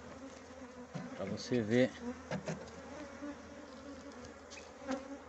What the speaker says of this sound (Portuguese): mostrar para vocês que é um enxame quando ele está entrando mel de laranjeira